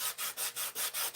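Wood is sanded by hand in a carpentry shop, with a handful of brisk, evenly spaced scraping strokes heard up close and alone.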